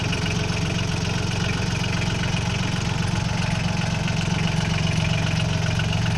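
A Solis 26 mini tractor fitted with a front loader runs at a steady idle, its close, even engine drone holding without surges or breaks for the whole stretch.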